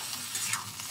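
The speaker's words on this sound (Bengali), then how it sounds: "টমেটোটা এখন নরম করে ভেজে নেব" Tomatoes soften in a frying pan with a steady close hiss of sizzling oil, broken by faint stirring scrapes over about a second.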